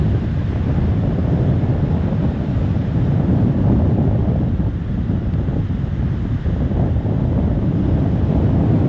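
Strong wind buffets the microphone over steady roaring surf at Haystack Rock on Cannon Beach ahead of an incoming storm, a loud, continuous broadband rush with no voices.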